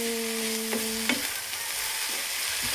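Breakfast food being stirred in a frying pan, a steady sizzle beneath a brief tonal hum that cuts off, followed by soft scrapes and taps of the spatula.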